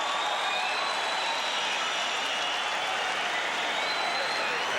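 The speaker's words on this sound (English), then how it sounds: "This crowd cheering the action that took place in the second round" Boxing crowd at the Holyfield–Parkey bout cheers and applauds after the second round, a distant, steady roar of clapping and voices with no break, under faint arena ambience.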